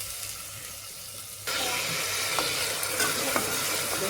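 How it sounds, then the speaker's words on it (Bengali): Spices fry in a pan for aloo dum, a quiet hiss at first, then a sudden surge into a loud, continuous sizzle with occasional stirring clinks, with no one talking. "এই মশলাগুলো দিয়ে দেবো, দিয়ে কিছুক্ষণ কষিয়ে নিই।"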